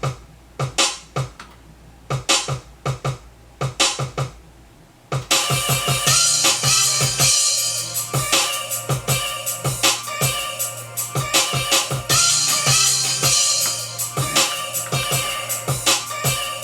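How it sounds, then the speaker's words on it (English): A programmed hip-hop beat with punchy kick and snare hits triggered from a keyboard repeats steadily, first sparse and then filled out with hi-hats, chopped samples and bass. "So it's my snare and my kick."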